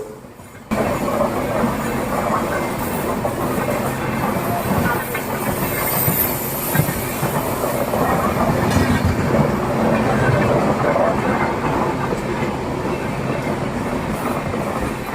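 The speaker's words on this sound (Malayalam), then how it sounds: "ഈ മെയിൻ ലൈനിലൂടെ വന്നുകൊണ്ടിരിക്കുന്നത് റോയാപുരം ലോക്കോ ഷെഡിൻ്റെ WP7 ലോക്കോയുമായി" The Gorakhpur Raptisagar Express rumbles past close by through a station, a continuous loud roar of wheels and carriages clattering along the rails with a faint squeal, steady throughout.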